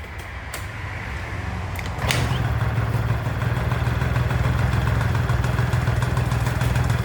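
A Yamaha Vino 50cc scooter with a freshly refitted carburetor is started; after about two seconds the small engine catches and settles into a steady, close idle with no speech.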